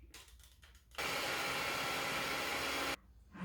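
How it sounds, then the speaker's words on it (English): An electric mixer is turned up to high speed while blending pistachio cake batter, giving a loud, even whirring roar for about two seconds that starts and stops abruptly between quieter stretches of background noise. "I'm going to increase the speed on my mixer and only mix it until it's all well blended"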